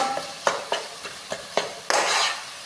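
Coconut laddu mixture with milk powder and sugar being stirred quickly in a pan, a series of short scraping strokes at a steady rhythm ending in a longer, brighter scrape, close and fairly quiet.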